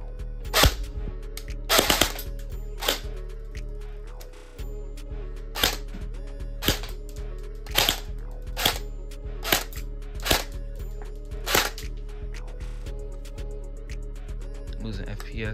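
Airsoft gun firing BBs through a chronograph during gearbox FPS testing, a dozen sharp, loud snapping shots at irregular intervals, close up and alone.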